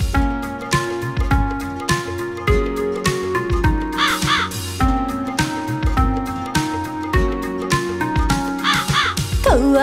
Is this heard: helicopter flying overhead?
no